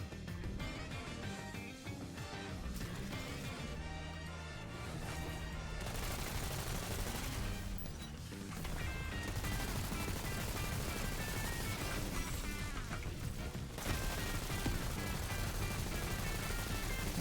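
Rapid gunfire in Tiny Tina's Wonderlands, dense bursts of shots layered over busy game effects and music, with brief lulls before the shooting surges back, steady and fairly loud throughout.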